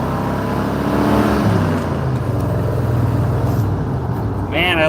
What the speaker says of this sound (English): Yeah, we laid down some rubber on the road back there.